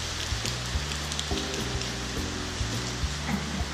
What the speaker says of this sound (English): Rainy day today.